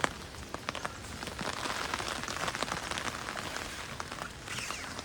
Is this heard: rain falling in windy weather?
yes